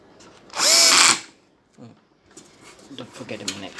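Power drill driving a screw during repair of a rice cooker, one short loud whir of about half a second close by, followed by quieter handling noises and a voice talking.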